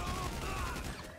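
Rapid gunfire during a GTA 5 shootout, a short dense burst of shots crackling continuously for about a second.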